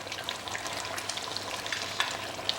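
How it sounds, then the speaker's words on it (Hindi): Chicken and masala frying in oil in a pan for dhaba-style chicken curry, a steady crackling sizzle with scattered pops and stirring scrapes, close and continuous with no talk. "आप देख रहे हैं कि हमारा चिकन और मसाला बढ़िया भुन गया है"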